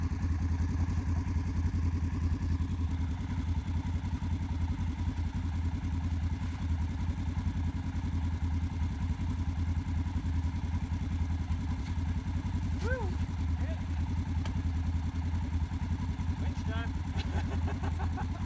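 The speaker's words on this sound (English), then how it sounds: "No, your back tires are spinning." Engine of a 2018 Polaris General 1000 four-seat UTV running steadily with its rear tires spinning, a continuous close, low mechanical drone with some clatter while people talk over it.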